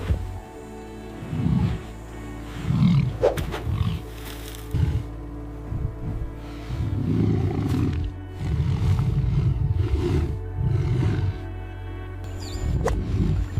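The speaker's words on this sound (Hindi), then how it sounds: "इतने में युवा नर शेर भी दहाड़ते हुए शामिल हो गया।" A young male lion roars and growls while attacking a buffalo in the wild. Several loud, rough bursts come in uneven bouts, with rustling between them and no speech.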